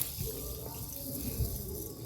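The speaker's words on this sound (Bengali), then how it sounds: "এই যে দেখো ওই চালটা একটু ধুয়ে দিচ্ছে" Gobindobhog rice is washed under running tap water, a steady close splash and gurgle of water over grains.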